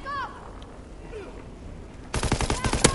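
Gunfire in a video game: after a quiet stretch with faint effects, a sudden volley of loud, rapid shots breaks out and continues as dense, repeated bursts to the end.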